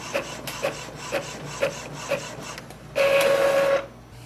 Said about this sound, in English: Click on the print test page.